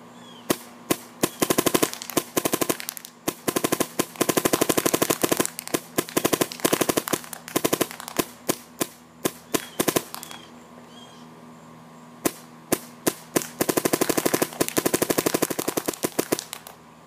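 Insight NG paintball marker with a soft shot bolt and 12.5 PSP ramp firing in rapid, loud, close-up strings of sharp pops, with a pause in the middle before another fast burst.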